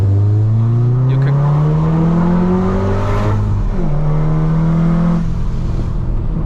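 Manual Golf R engine revving hard with exhaust valves open on a hillclimb, loud rising and falling engine drone through gear changes, close and continuous with no talk.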